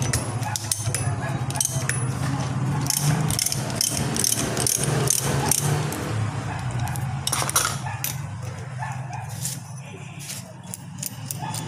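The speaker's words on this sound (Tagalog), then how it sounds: "So kuha lang tayong socket na 19mm. Then luwagan na natin siya." A ratchet with a 19mm socket loosens the nut on a car's power steering pump, giving close, quick clicking bursts over a low background hum, with faint talk in places.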